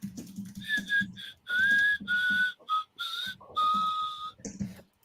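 A person whistles a melody as a series of clear, sustained high notes in short phrases, fairly close, with low background noise and movement sounds between the phrases.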